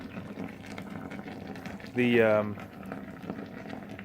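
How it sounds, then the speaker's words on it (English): Molten metal boils in a homemade foundry crucible made from a fire extinguisher with its top cut off, giving a steady low bubbling rumble while someone talks over it. "The sound you're hearing is metal boiling."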